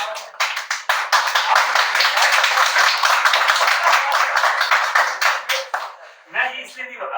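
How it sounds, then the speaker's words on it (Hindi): A burst of audience clapping at a motivational talk fills the room, dense and sustained for several seconds before thinning out to a few scattered claps, with a voice briefly heard at the end. "ताली बजाने वाले ना आपको"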